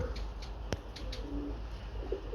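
Pigeons coo softly in a loft, with low murmuring calls, a few sharp clicks and wing or foot shuffles nearby over a steady background hum.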